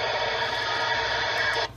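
A steady, buzzy data burst from a radio transmitting an APRS packet beacon sent by APRSdroid, heard alone for about a second and a half before cutting off abruptly.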